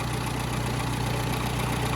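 1963 Mini Mark 1 850 engine running on a newly rebuilt carburettor, close by, with a steady, even idle hum and a regular low pulse throughout.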